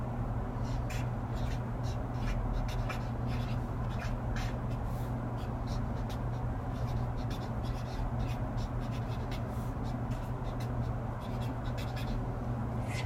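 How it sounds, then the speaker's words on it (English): Pen scratching across paper while writing out a formula, a steady run of short, close strokes and scrapes over a constant low hum. "let's write down what the volume of a triangular prism is"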